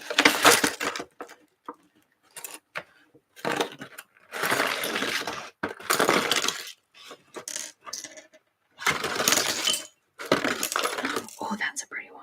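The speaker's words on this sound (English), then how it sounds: "I gotta get them out of the bag because the bag noises are making my teeth grit." Items are pulled from a bag close to the microphone in an ASMR setting, with bursts of loud crinkling and rustling and clinking bits separated by short quiet gaps, and occasional soft speech.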